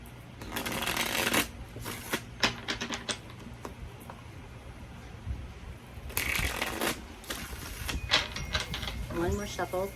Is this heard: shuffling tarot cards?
yes